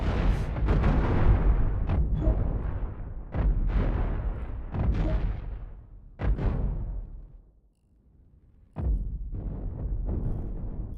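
Cannons on a five-deck ship fire in a video game, a series of loud booming blasts in irregular bursts with rumbling decays and a short quiet gap between volleys.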